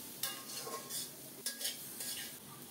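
Pointed gourd being stir-fried with salt in a pan, metal spatula scraping and stirring in repeated strokes over a soft steady sizzle, close and fairly quiet with no talking.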